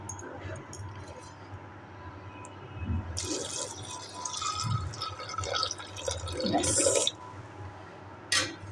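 Water is poured into a cooking pot with turmeric and salt already added, a splashing fill that swells and stops in bursts, heard close up with a voice talking in the background.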